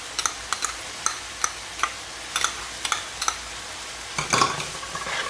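Chopped onion and minced garlic are stirred in a pan, a spoon tapping the rim in a regular rhythm over a soft sizzle, with a louder scrape near the end.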